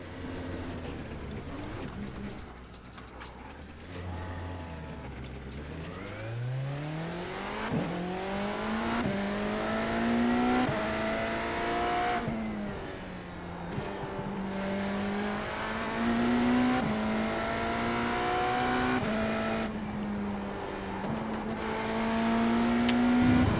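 Hypercar in a racing video game spinning out at Catalunya and then driving on, engine dropping low, then revving back up through rising gear pulls, steady and close.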